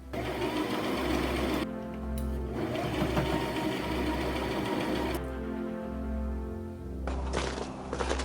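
Sewing machine running a wide straight stitch along cloak fabric, a loud close mechanical whirring with rapid needle rhythm, stopping and restarting a few times.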